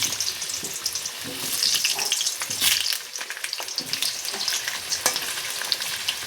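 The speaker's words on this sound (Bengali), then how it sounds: "এখন আলুগুলো লাল লাল করে ভাজা করে নেব" Potatoes frying in oil in a home kitchen pan, a steady close sizzle with scraping stir strokes and brief louder bursts, no talking.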